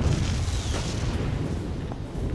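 A booming explosion in the Toy Soldiers video game blows up a machine gun, a dense low rumble that fills the whole moment without any voice.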